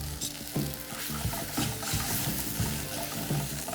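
Mushrooms sauté in a brandy and white wine sauce for steak Diane, making a loud, close, continuous sizzle with stirring scrapes and bubbling throughout.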